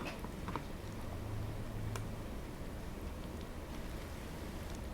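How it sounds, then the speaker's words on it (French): Rain falls in the Roblox game Brookhaven as a steady, even hiss with no breaks, heard alone at a moderate level throughout. "Ok, là, il pleut vraiment, on dirait."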